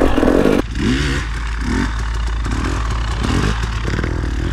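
A KTM 300 two-stroke dirt bike engine revs loud and close during wheelie practice, a raspy sustained blare with rising and falling throttle surges and some clatter.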